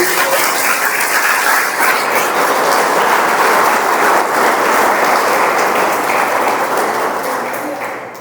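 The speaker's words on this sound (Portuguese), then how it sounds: "Aplauda Jesus por isso." A church congregation claps loudly and continuously, dense sustained applause filling the space with no talk over it, tapering slightly at the end.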